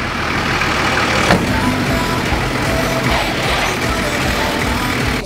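A car engine idles at a steady, fairly loud level with a constant low rumble. There is one brief clunk near the start and no revving.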